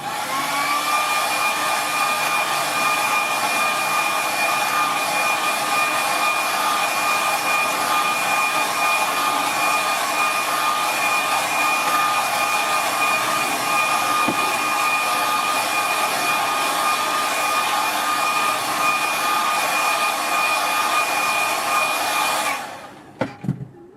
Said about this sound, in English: Get the dryer out.